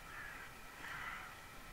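Crows caw in the Titan Quest video game, a couple of faint, hoarse calls heard alone against a quiet game background.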